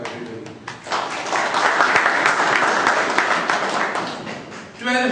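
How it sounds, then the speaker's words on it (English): Applause from a meeting audience fills the room, a dense, steady wash of many hands clapping for several seconds, with voices and cheers rising over it near the end. "Big round of applause for everybody."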